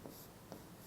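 A pen writes on paper during a class lesson, giving two brief, faint scratchy strokes about half a second apart with no talking.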